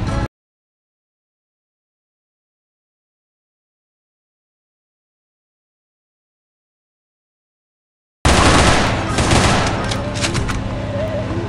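Gunfire from the mobile game Gunpie Adventure on iOS as hordes of stalkers are shot, a loud, dense burst of rapid shots starting abruptly after a long silence and continuing steadily to the end.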